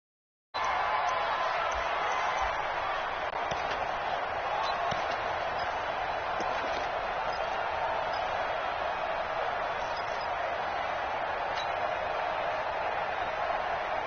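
Steady stadium crowd roar from a PS4 American football video game broadcast, a continuous dense wash of noise throughout with commentary-style speech woven in.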